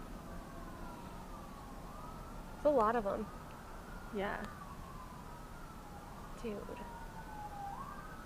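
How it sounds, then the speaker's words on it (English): Distant wailing sirens rise and fall steadily in the background while a few people talk briefly nearby. "Do you guys hear the sirens?"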